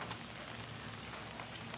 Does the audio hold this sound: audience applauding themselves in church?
no